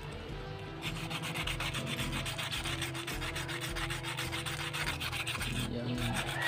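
Steady, continuous scratchy rubbing of sandpaper on a fishing lure, close and fairly loud, with a rhythmic back-and-forth texture that pauses briefly near the end.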